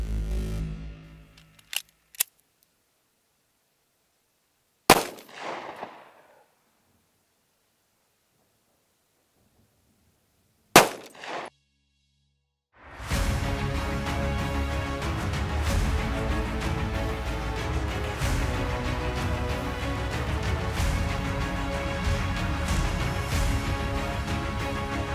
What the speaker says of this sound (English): let's get out to the range, shoot it through my wife's Smith Wesson Shield